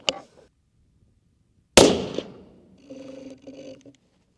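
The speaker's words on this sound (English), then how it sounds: "So this will be my first time actually pulling the trigger" A single sharp rifle shot firing Barnes ammunition cracks loudly outdoors, followed by a decaying echo and then a faint electronic beeping tone.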